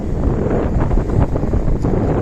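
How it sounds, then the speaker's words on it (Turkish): Strong wind roars and buffets the microphone on Urla Quarantine Island, Turkey, a loud, continuous low rumble with gusty swells and no other sounds. "Şu rüzgar, rüzgarın sesi"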